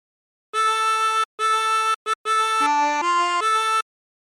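A tremolo harmonica plays a phrase of What Shall We Do With the Drunken Sailor, heard clearly and alone as a string of sustained wavering reedy notes with short breaks between them.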